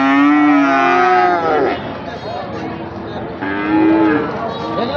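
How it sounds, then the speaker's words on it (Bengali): Friesian beef cows at Ambari cattle market in Narsingdi, bellowing in loud, close, drawn-out moos, two long calls separated by a brief dip, with no one talking over them. "আর এই বড়টা পঁচাত্তর হাজার পঁচাত্তর হাজার গাভী গরু মাংসের গরু ফ্রিজিয়ান"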